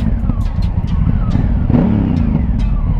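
A 2019 Honda Africa Twin motorcycle engine runs close by with a low, steady drone, and sharp popping bursts break through it several times.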